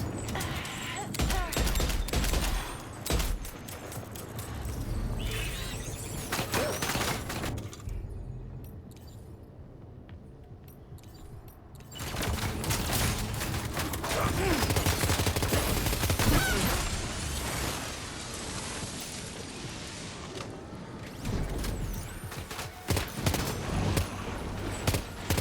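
Dense bursts of gunfire in Death Stranding 2 combat, loud and sustained across most of the stretch with a brief lull in the middle, rapid overlapping shots and mechanical clatter mixed with faint game voices.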